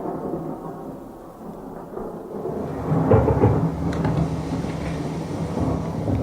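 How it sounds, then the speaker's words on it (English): Thunderstorm over an old house at night: steady heavy rain hisses throughout while a deep rolling thunder rumble swells from about three seconds on and lingers, a radio drama sound effect with no voices. "All night the rain beat down upon the old house and the thunder roared."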